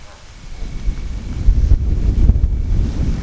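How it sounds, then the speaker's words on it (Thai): Strong wind gusting outdoors while a Naturehike Star River 2 tent is pitched, a loud low rumbling buffeting against the microphone that swells and surges unevenly. "ลมแรงมากเลยนะฮะ"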